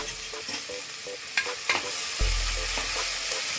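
Garlic, ginger and green chilli sautéed with onion in a pan, a close, steady sizzle with repeated rhythmic scraping as a spatula stirs them, a few sharper knocks partway through.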